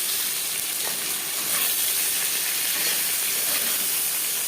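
Hilsa fish head frying in oil, heard as a steady close hiss and sizzle with little variation and no talking.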